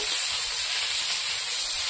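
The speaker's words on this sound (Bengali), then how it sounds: "মশলাটা ভাজা হয়ে গেছে" Spice paste fries in a pan with a loud, even sizzling hiss close by that runs unbroken for a couple of seconds.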